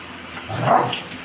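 An older trained dog gives a single drawn-out warning growl-bark at a younger dog, close and fairly loud, swelling briefly then fading.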